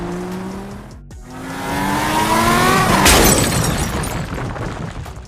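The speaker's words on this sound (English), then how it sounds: "Now let's drive this older model of a police car into the wall" A LEGO police car speeds up with a rising whine, then smashes into a wall with a loud sharp crash and scattering rattle of pieces that fades away.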